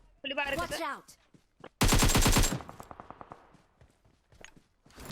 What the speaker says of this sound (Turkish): Aa silah sesleri de geliyor